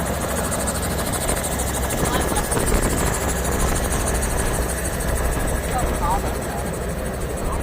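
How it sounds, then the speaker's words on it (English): Steady helicopter rotor and engine noise as a helicopter starts up in Hawaii, loud and continuous, with voices talking faintly underneath. "let's head out to the chopper and we will get this thing up in the air"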